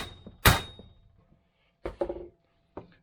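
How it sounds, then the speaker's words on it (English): An impact socket is hammered against a cup on the prop shaft of a 1979 MG Midget 1500: one loud metallic bang, then a pause and a quick pair of thumps, then a final knock, all without talk. "What I might need to do though is bang the cup in."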